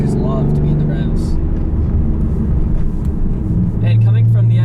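A 2003 Nissan 350Z V6 engine with a manual gearbox hums low and steady under people talking, swelling louder near the end as the revs climb.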